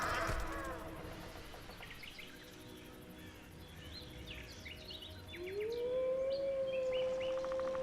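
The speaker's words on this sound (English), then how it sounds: "Sounds like a werewolf." A werewolf's long rising, wavering howl in The Witcher 2 swells out of forest ambience with scattered bird chirps, loud and close in the final seconds.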